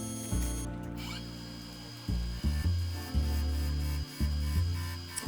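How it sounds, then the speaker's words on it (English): Folded sandpaper rubbing on a spinning turned-wood Japanese-style hollow form on a lathe, heard as repeated close, rhythmic friction strokes over the lathe's humming drone, starting and stopping several times. "I just try and tidy it up with a bit of folded up sandpaper"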